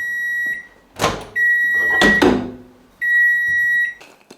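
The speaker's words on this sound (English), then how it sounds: "get it in the microwave, and we're just going to do it for 30 seconds" A microwave oven sounds three long electronic beeps, separated by a couple of solid door clunks and clicks, close and clear.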